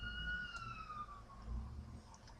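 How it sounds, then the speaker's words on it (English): A distant ambulance siren wails faintly, its tone slowly sliding downward against low background rumble, with no talking. "listen to more ambulances"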